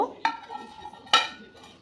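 Mung beans are washed in a bowl of water, with two sharp clinks against the bowl and soft swishing between them, close and quiet.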